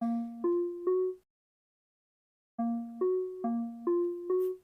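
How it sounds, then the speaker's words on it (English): Plucky, wooden-toned bamboo synth notes from an Alchemy instrument, with an acoustic, mallet-like attack, play a short three-note phrase, pause, then return with a longer rising-and-falling pattern. "This is what the bamboo sounds like. It's also an Alchemy instrument."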